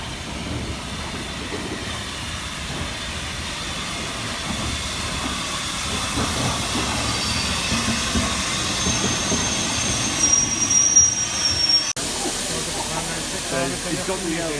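Steam locomotive Bahamas running at York, a continuous loud hissing and rumbling roar with rhythmic chuffing texture throughout, close by.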